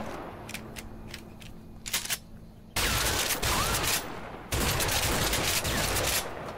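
Gunfire rings out during shooting practice in A Way Out: a few sharp separate shots, then two long, loud stretches of continuous rapid automatic fire with a brief pause between them.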